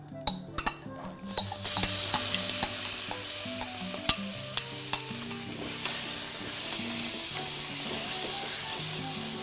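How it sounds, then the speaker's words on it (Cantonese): Sauce paste for fish assam sizzles loudly as it is stir-fried in oil in a wok, with sharp clinks and scrapes of a spatula against the pan early on, then a steady hiss. "就爆香啲醬料啦"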